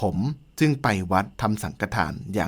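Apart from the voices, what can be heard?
No everyday noise stands out behind the speech.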